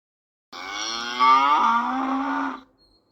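A cow gives one long, loud moo heard alone and close, rising and then holding a low drawn-out tone for about two seconds before cutting off into silence.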